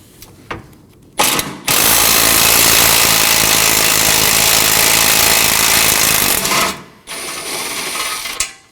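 A loud power tool, likely an impact wrench, drives out 14mm bolts on the front impact absorber of a 2020s Toyota Corolla in one long, steady burst of roughly five seconds, with short bursts before and after.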